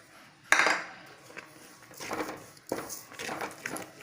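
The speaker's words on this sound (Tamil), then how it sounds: "நான் 1/2 கப் அளவு சுகர் சேர்த்துக்கிறேன்." Sugar being poured into rice flakes in a pan for a sweet kesari, with a sharp metallic clank of a utensil followed by gritty pouring and scraping rustles nearby, with no speech.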